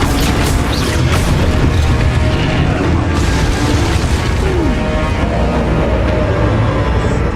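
A Confringo spell explodes in Hogwarts Legacy, giving a loud sustained booming blast with rumbling low end that fills the whole stretch, dense and continuous rather than a single pop.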